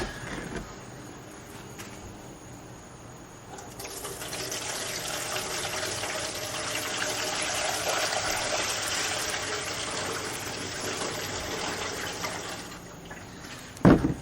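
Liquid pours into the gas tank of a rotten old 1956 VW Beetle, a steady gushing rush that swells and holds for about ten seconds, close and fairly loud, with no talking.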